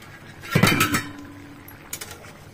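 A metal lid on a pot of fish curry cooking on a gas stove is lifted with a short clatter and clink, followed by a faint clink a moment later in a quiet kitchen.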